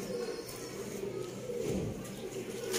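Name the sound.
pigeon cooing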